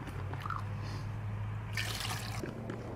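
Water poured over eggs in a metal canteen cup outdoors, a brief bright splashing burst in the second half of the short clip with a low steady hum beneath.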